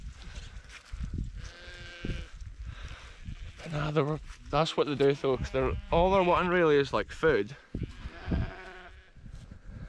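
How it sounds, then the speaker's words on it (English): Sheep bleat loudly in a field close by, several overlapping wavering calls clustered in the middle, while someone talks over and between them. "I do not want to show these sheep the way I get out of the field, because they might follow"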